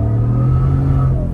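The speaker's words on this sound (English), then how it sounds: "this WHIPPLE supercharger sounds so much better than the Roush" A 2021 Ford F-150 with a Whipple supercharger accelerates from inside the cab with a loud, steady low engine drone and a faint rising whine above it, heard up close and without talk.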